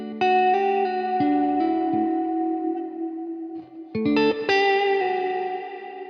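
An electric guitar through a Neural DSP Quad Cortex reverb block with its decay being adjusted rings out in sustained chords and notes, each trailing into a long washy tail, with a couple of sharp re-attacks near the end.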